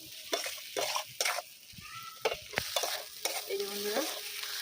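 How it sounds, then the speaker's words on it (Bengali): Fish curry with fried potatoes sautéed in a pan, bursts of sizzling and scraping as it is stirred, interspersed with brief pauses, close and moderately quiet, no voices. "ভালো করে কষিয়ে নিতে হবে।"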